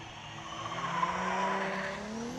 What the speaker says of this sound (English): sounds like the car's in limp mode, just it's hitting a very, very early rev limiter.